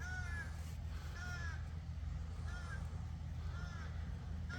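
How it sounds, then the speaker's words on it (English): Several crows caw in repeated harsh calls, four separate bursts spaced across the clip, set against a steady low rumble of background noise. "Listen to them crows."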